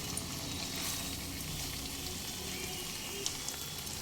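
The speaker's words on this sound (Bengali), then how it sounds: "আগে থেকে ভেজে উঠিয়ে রাখা ভিন্ডিগুলো সব দিয়ে দেব" Pre-fried okra tossed into masala sizzling on medium flame for aloo bhindi, giving a quiet, steady crackling hiss with a couple of small clinks near the end.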